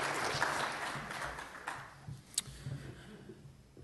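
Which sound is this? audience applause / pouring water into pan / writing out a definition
audience applause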